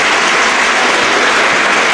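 Spectators at the FOK Olimpiya arena applaud near the end of a Ukrainian Cup boxing final. The clapping is a dense, even wash that carries on without a break, and no voices stand out.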